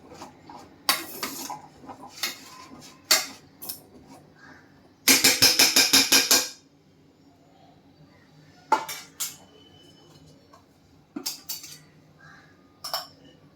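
Metal spoon scraping and clinking against a cooking pan while ginger-garlic paste is stirred in, in scattered bursts with a rapid rattling run in the middle; close and moderately loud with faint background noise.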